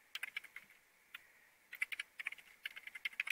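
Quick, light keystrokes on a computer keyboard tap out a link in short irregular bursts with brief pauses, close and fairly quiet.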